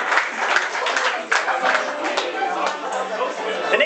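Concert audience claps and chatters for the keyboardist, a dense, steady patter of hands with crowd voices mixed in, fairly close and lively throughout.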